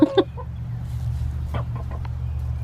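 Chickens beside a homemade coop give a couple of loud close clucks at the start, then softer scattered clucks over a steady low background hum.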